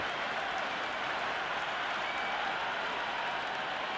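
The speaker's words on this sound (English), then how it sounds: "There's a almost tangible fervour throughout the crowd at the moment." A large crowd at an India versus New Zealand T20 World Cup cricket final claps and cheers in a steady, dense wash of applause that holds at an even level throughout.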